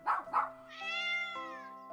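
A cat meows twice in short calls, then gives a longer, drawn-out wavering meow, close and clear, with no talking.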